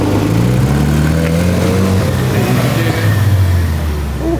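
A loud sports car engine revs and drones up close in a busy car park at the Nürburgring, a strong steady roar with rising and falling pitch.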